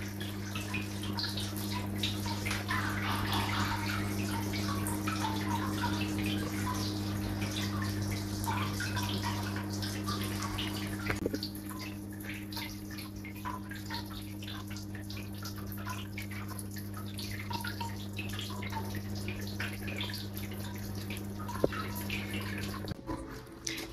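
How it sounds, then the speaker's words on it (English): Steady running water fills a thermal luxury spa relax room with Himalayan salt, a continuous close wash with faint drips over a low constant hum, and no talking. "there was this relaxing sound of water"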